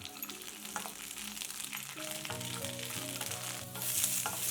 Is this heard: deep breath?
no